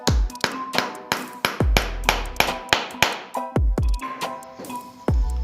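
A hammer drives nails into the heel of a woman's shoe with a run of sharp, ringing metallic blows, about a dozen in quick, fairly regular succession, close and loud.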